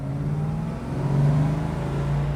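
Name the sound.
1971 Chevrolet Camaro engine revving under throttle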